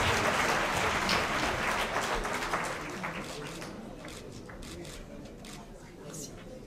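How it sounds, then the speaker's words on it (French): A crowd at an athletics trophy ceremony applauds, with dense clapping at first that thins and fades over several seconds while people talk over it. "On est bon, on applaudit?"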